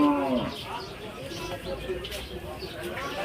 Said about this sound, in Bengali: এটা হলো বড় সুঠাম দেহের মহিষ, খুব সুন্দর দুইটা মহিষ আছে গাবতুলহাটে